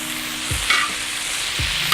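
Potatoes fry in butter with onions and jalapenos outdoors, giving a steady close sizzle. Two quick scraping stirs cut through it, and nobody talks.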